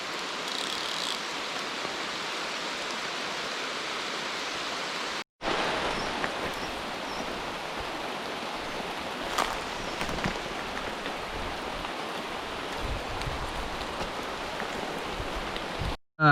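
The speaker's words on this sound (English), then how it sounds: "Oh man, it rains so often up here." Heavy rain pours steadily in a jungle, a dense continuous hiss close around, broken by a brief gap before resuming just as loud until the end.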